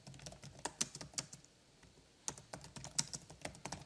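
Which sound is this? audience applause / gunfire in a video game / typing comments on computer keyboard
typing comments on computer keyboard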